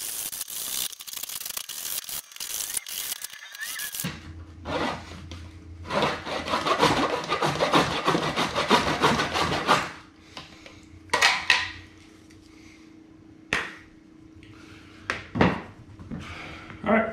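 Repeated rasping strokes of a hand saw biting into wood for a DIY barbell rack, steady back-and-forth rhythm in bursts, close by, followed by a few scattered knocks and scrapes.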